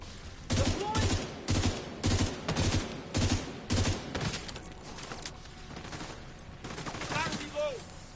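Rapid gunfire from The Division 2 video game comes in loud, evenly spaced bursts for the first few seconds, then gives way to scattered shots and softer in-game action sounds.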